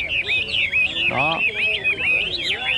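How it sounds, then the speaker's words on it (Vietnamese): Caged hwamei songbirds at a bird market in Bac Ha, Lao Cai: bright warbling, trilling song in rapid varied phrases, close and clear, with a brief spoken word and market murmur underneath. "những cái lồng chim với những con chim họa mi hót rất là hay"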